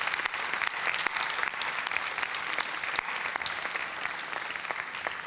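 An audience applauds the organizers at the close of an interprofessional meeting on youth books, a dense, sustained round of many hands clapping with sharp individual claps standing out, steady throughout and no talk over it.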